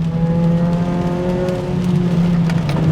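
A Toyota Celica with a VVTL-i engine drives in the wet, its engine holding a steady, loud droning pitch that shifts slightly as it revs. Heard close from inside the car, without talk.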